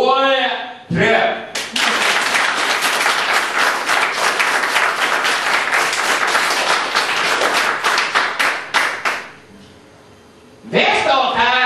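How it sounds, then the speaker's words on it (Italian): Audience at a live comedy show in Italy bursts into loud, sustained applause on cue for about eight seconds, fading into quiet, with someone speaking before and after. "fate un applauso al mio tre"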